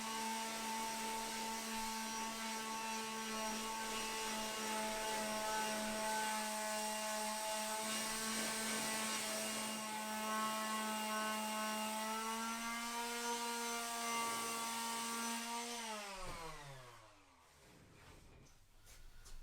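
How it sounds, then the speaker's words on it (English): A power tool whines steadily while sanding a wood block and resin sign, holding one loud tone for about fifteen seconds before the pitch drops sharply as it spins down, leaving quieter scraping at the end. "let's try to sand this and see if we can clean this side up"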